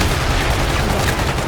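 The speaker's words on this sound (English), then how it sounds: "let's call this bombardment in, see what we can do with that. There. Danger close, ground team. Missiles incoming." Called-in missile bombardment striking in the video game 2187, a dense, loud barrage of overlapping blasts and rumbling impacts filling the whole moment without pause.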